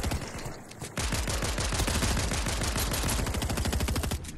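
Rapid automatic gunfire in a console shooter video game, sounding as a dense, continuous burst of loud close shots that starts after a brief pause and carries on without letup.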